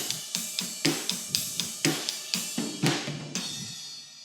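Drum groove with a fill from a drum lesson, the kit hit in a steady rhythm of sharp strikes with cymbal wash, the fill building near the end before ringing out, close and alone.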